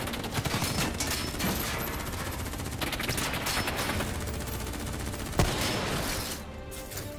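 Dense, continuous gunfire in Call of Duty: Black Ops 3, sustained automatic bursts and shots layered over each other for the whole stretch, loud and busy with one sharper report standing out late.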